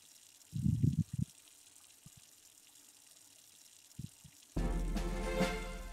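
Water being produced in the survival building game Havendock: a few soft splashing bursts and clicks, then a sudden steady gush of running water that continues to the end.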